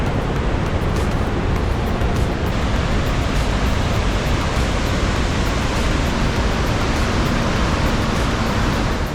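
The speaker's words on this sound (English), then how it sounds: "the more spectacular and louder the waterfalls become" The Iguazu Falls on the Brazilian side, near Garganta do Diabo, roar as a loud, dense, unbroken wash of falling water that continues without pause or voices.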